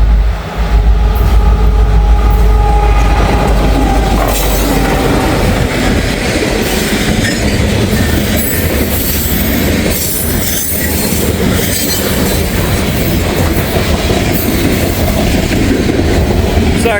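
A full freight train, either a grain train or mixed manifest, rolls past on rails in the rain at moderate speed, a steady loud rumble of railcars with wheel squeal and clatter throughout.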